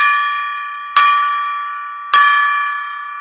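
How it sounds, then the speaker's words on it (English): A golden-coloured gong struck three times at even intervals, each loud metallic hit leaving a bright, bell-like ring that decays slowly before the next strike, with no speech. "I'll ring the gong, because we got the 500."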